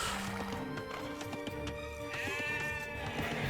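Sheep bleat in the Age of Empires II strategy game over a busy bed of game sounds, with a single clear bleat rising partway through among clicks and background effects.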